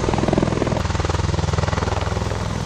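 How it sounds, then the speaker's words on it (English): Hovering Chinook tandem-rotor helicopter, a loud close throbbing rotor beat pulsing rapidly and evenly over a heavy engine drone throughout. "this process requires much coordination with troops on the ground who must get underneath the hovering Chinook"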